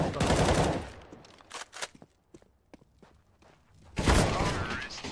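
Gunfire in CS:GO, with loud bursts of automatic shots at the start and again near the end and scattered footsteps and clicks between them, while a player talks over the action.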